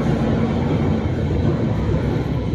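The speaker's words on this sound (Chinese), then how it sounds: "你也看得见我是走在那个地铁的轨道的下面嘛，头上时不时会有点巨大的东西从脑袋上过" An elevated subway train passes right overhead on its track. It makes a loud, continuous roar and rumble that fills the whole stretch without letting up.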